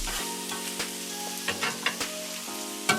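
Mushrooms and onions fry on a hot Blackstone griddle with a steady close sizzle, broken by a few sharp spatula taps and scrapes on the flat-top.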